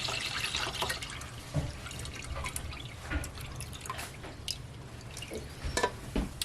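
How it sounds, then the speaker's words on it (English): Buttermilk poured off homemade butter made from whipping cream, heard as soft, close splashing and irregular dripping with faint sloshing, quiet and steady throughout, no voices. "Alright, so I'm spilling out the buttermilk, trying to hold most of the butter back."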